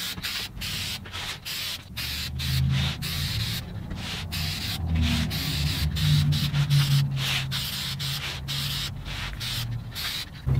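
Spray lacquer finish being sprayed onto a wooden picture frame, a steady close hiss with short pauses and rubbing sounds throughout.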